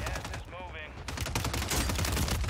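AK-47 fire in Warzone 3, a dense sustained burst of rapid automatic shots, loud and close, with a voice briefly talking over the start.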